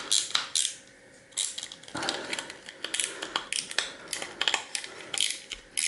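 Small screws are worked loose from the board of a credit card machine being scrapped, with irregular metallic clicks, ratcheting turns and light clatter close by, and no voices.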